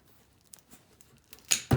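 A Doyle cable cutter snaps through copper cable, two sharp close cuts at the end after faint handling clicks.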